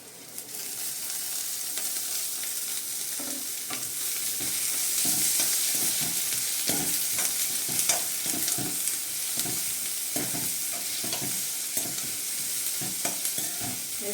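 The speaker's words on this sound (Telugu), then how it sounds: "వేసుకొని కొంచెం ఫ్రై చేసుకోవాలి." Capsicum, grated carrot and tomato frying in a pan for a sandwich filling, a steady close sizzle with frequent scraping stirs and soft clinks of a spoon against the pan, no talking.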